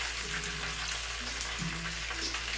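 Flounder fish sizzles steadily in hot oil, a dense continuous frying hiss that stays close and fairly even with some faint clinks of cookware.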